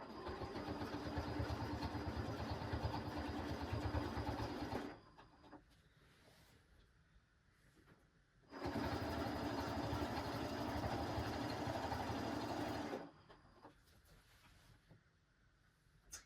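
A sewing machine runs with a walking foot while quilting, in two sustained steady runs of motor hum separated by a quiet pause with faint handling sounds.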